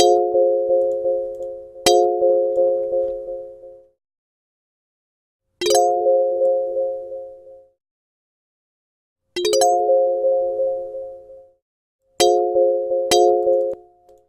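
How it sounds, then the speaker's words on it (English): Synthesized strummed chords from the FL Studio Strum tool ring out in four sustained, bell-like groups, each opening with a quick staggered attack and then decaying, separated by short silences. "which will alter the velocity and timing to try and replicate a strummed instrument so it sounds a bit like this."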